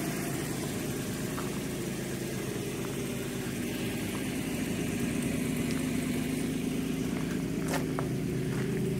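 A Toyota RV engine idles steadily just after starting, a rough, even mid-pitched rumble that holds close and constant throughout.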